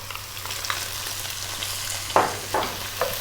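Onion and celery stir-frying in infused oil over maximum heat, a steady close sizzle with a few sharper scrapes and clatters of stirring near the end, no voices.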